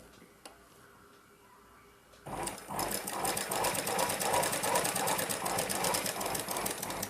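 A sewing machine starts up after a quiet pause with a click and then runs steadily, its rapid rhythmic needle chatter stitching a blouse shoulder seam.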